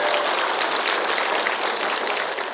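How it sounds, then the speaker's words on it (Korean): Audience clapping at a Buddhist dharma talk, a steady dense wash of many hands that holds evenly from start to finish with no voices over it. "박수 칠 일이 아니야."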